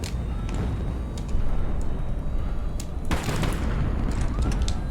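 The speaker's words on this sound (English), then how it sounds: "Oh my gosh, what an explosion." Explosions and gunfire in the naval combat game HighFleet, a dense rumbling barrage with repeated sharp cracks and a heavy blast surging in near the end, loud and continuous.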